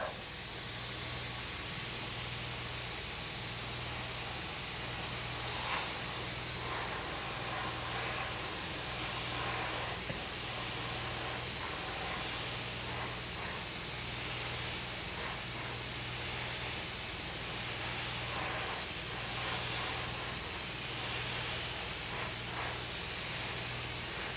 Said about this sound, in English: I'm just using air now from the airbrush to kind of flash dry it.